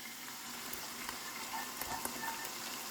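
Sauce for sopa de fideo hits a hot pan and sizzles, a soft, steady crackle and hiss with small pops, fairly quiet and without voices.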